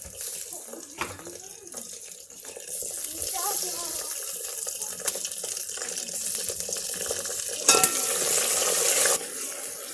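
Tomatoes frying in a pan with browned onion and green garlic for chicken korma, with a steady close sizzle and bursts of stirring and scraping, plus brief splashy water sounds.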